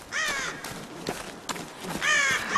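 Several crows caw loudly and close by in the Tomb Raider (2013) wilderness, harsh calls repeating in a loose, irregular rhythm with short gaps between them, and no talking over them.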